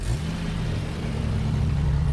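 A car drives off in a spoken horror story, with a steady low engine rumble that builds slightly while accelerating, close and continuous, with no talking.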